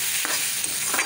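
Vegetables, teasel gourd with potato, crackle in a pan, a brief close sizzle with a few stirring scrapes.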